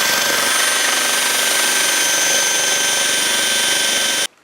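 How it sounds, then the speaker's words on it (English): An electric drill spinning a cone-shaped grinding stone against curb rash on a W126 Mercedes-Benz S-Class wheel gives a steady, loud, continuous whine with a high-pitched grinding hiss, running unbroken for about four seconds before cutting off abruptly. "Got an electric drill with a cone-shaped stone, and I'm going to try and work out some of that roughness on that curb rash there."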